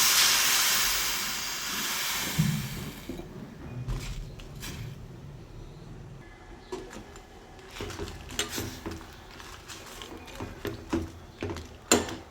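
Water splashed into a hot kadai of tomatoes, coriander and dried red chillies for momo chutney, giving a loud broad hiss for about three seconds that fades into softer sizzling and scattered clinks.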